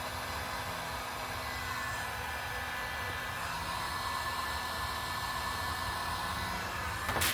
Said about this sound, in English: Turn our heat gun up.